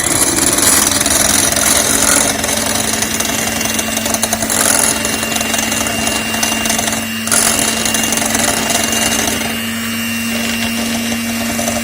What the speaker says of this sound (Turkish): Bu arada krem şantimizi hazırlayıp pişene kadar dolaba koyacağız. Şöyle güzelce çırpmak.